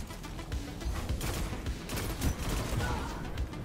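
Red Death pulse rifle firing in a Destiny 2 Hunter PvP match, a steady run of rapid, crackling bursts with shots tumbling over one another, loud and close throughout with no talking.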